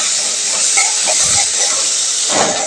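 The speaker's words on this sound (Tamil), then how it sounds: "நல்லா கலந்து விட்டு தக்காளி நல்லா மசிஞ்சு வர்ற வரைக்கும் நல்லா வதக்கி விட்டுக்கலாம்" Onion and tomato sauté in a hot pan for a quick egg fry, giving a steady, loud hissing sizzle with brief stirring scrapes and no voices.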